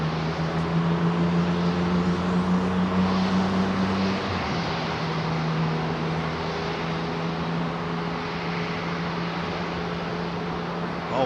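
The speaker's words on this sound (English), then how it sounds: "Trent 700s, here we go. Big long wind up for these engines." Large Rolls-Royce Trent 700 jet engines drone and whine as they slowly spool up at an airport, a steady rising roar with a tonal hum that shifts pitch partway through.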